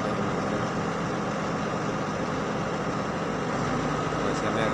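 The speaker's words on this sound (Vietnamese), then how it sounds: "xe nó đang nổ máy rồi" Truck engine idling on a rainy morning while acacia logs are loaded, a steady loud broadband rumble with no breaks throughout.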